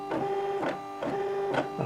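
Silhouette Portrait cutter cutting zigzag lines into paper, giving a buzzing motor whine that rises and falls in quick regular strokes, close and steady.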